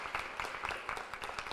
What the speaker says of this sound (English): All right, let's give a round of applause for Miss Starla Gibson.